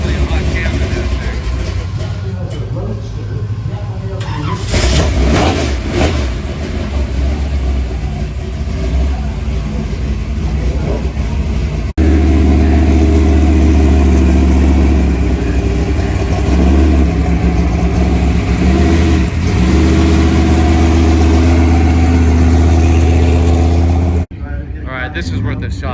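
A Camaro Z28 V8 at a collector car auction in Palm Springs, loud and close, rumbling and revving with a throaty snarl through most of the stretch while voices talk over it. The engine settles into a heavier steady roar partway through before cutting off.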